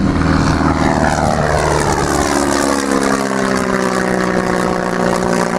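Biplane engine roaring loud and close at an air show in Margny-lès-Compiègne, a continuous propeller drone with shifting pitch as the aircraft accelerates.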